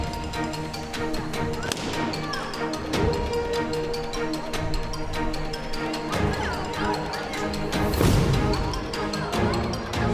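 Balloons bursting in a lively children's party game, sharp pops and crashing bangs scattered through constant loud background noise and commotion.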